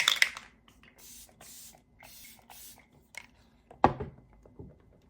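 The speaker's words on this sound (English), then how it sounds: "I'm gonna spray my face one last time." Face setting spray mists out in several short, soft spritzes at close range, separated by quiet pauses and small handling taps.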